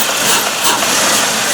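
A GM LS V8 engine idles right after an intake manifold replacement, a dense, continuous rumble with a slightly uneven lope, close and steady throughout.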